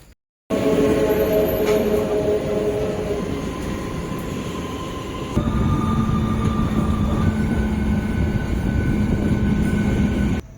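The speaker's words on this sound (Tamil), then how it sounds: "மார்னிங் கிளம்புற ஒரு ஃபாஸ்ட் ட்ரெயினில் தான் போக போகிறோம்" The Kovai Express train in India rumbles continuously and loudly nearby, wheels and engine droning with faint high squeals, the sound shifting in pitch partway through.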